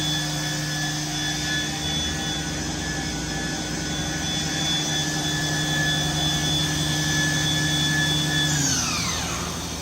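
A Mazak Nexus 510C-2 CNC machining center from 2010 whines steadily with its spindle at high speed, a continuous tonal hum under fan noise that sweeps down as it slows near the end.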